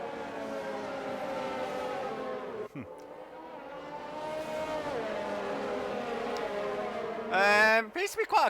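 Formula 1 race cars on a formation lap at the British Grand Prix in a PS4 racing game, engines droning steadily with rising and falling pitch under a voice talking, then a sharp high whine near the end.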